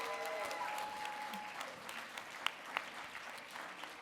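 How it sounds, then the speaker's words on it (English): An audience applauds three policy award recipients at a ceremony, a steady, fairly distant wash of clapping that holds evenly throughout with a few sharper claps standing out. "this is a clapping moment"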